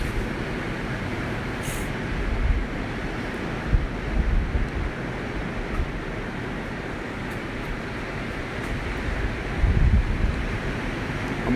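Ocean surf and gusting wind on Ormond Beach, Florida: a steady roar of breaking waves with wind buffeting the microphone, swelling in a few louder surges, with no voices.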